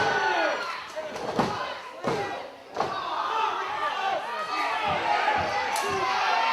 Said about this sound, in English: listen to the crowd. The crowd is making a lot of noise.